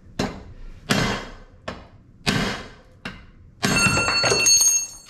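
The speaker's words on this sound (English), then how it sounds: "we're gonna hammer down on the nut and drive this post down." Five sharp metallic hammer strikes on a nut driving a boat trailer roller post, spaced about a second apart, each ringing briefly, followed by a longer clanging, ringing strike.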